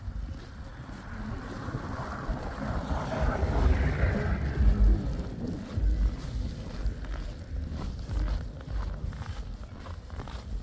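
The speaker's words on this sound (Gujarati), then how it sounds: "બધી સાઈડથી પવન આવે છે." Strong, steady wind roars and buffets the microphone during a snowstorm in Canada, a continuous gusting rush that swells and eases throughout with no voices.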